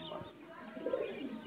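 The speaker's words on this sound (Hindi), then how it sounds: "ये कबूतर है हमारा" A pigeon at Hardaspur gives soft, low, rolling coos close by, faint overall, with no clear speech over it.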